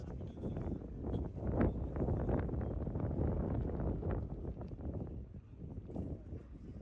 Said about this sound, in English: As I said, it is really windy